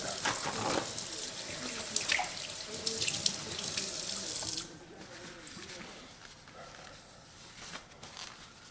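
Butter being rinsed under a running kitchen tap, a steady close gush of water that drops to a quieter trickle partway through, with no talk.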